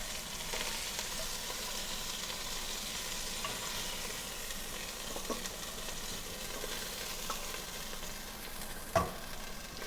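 Beef searing in lard in a pan for barbacoa, a steady close sizzle and crackle of frying fat throughout, with a faint clink of a utensil near the end.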